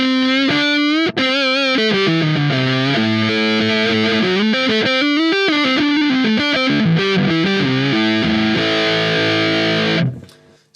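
An electric guitar played through a Rat distortion plug-in with the distortion turned up gives a thick, sustained, mid-heavy crunchy tone, with loud, continuous melodic lines and chords for about ten seconds before fading.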